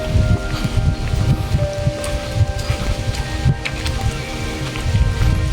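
Steady rain patters over a wide area of countryside farmland, a dense continuous hiss with scattered heavier drops and a low rumble underneath; no voices.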